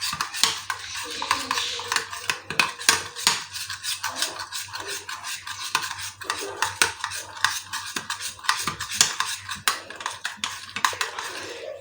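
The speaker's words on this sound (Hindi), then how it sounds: "अब हम इसको भी अच्छी तरह इसमें मिक्स कर लेंगे।" Cream being stirred and mixed in a bowl with a utensil, rapid scraping and clinking strokes running steadily throughout, close and fairly loud, with brief speech-like murmurs at moments.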